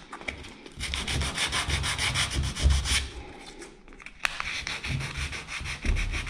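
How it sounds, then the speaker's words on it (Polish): Filler on plaster cornice joints is sanded by hand, producing close, continuous rhythmic rubbing strokes with a short pause midway, and no voices. "Szlifujemy dokładnie każdy wrąbek, każdy kącik."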